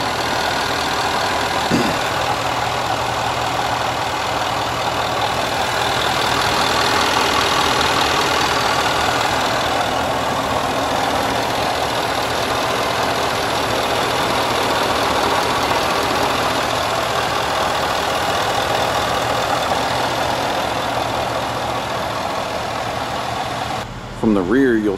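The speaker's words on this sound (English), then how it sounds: "It's a V8 5-liter, 510 horsepower, 461 foot-pounds of torque, supercharged" A supercharged 5.0-litre V8 in a 2013 Range Rover Sport Autobiography runs steadily at idle, a continuous low engine hum with broadband noise, close and fairly loud throughout, ending with a brief change near the end.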